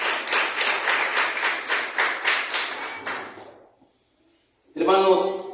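A church congregation claps in steady rhythmic unison during a weekly worship service, about a dozen even beats, then a brief silence before a voice speaks.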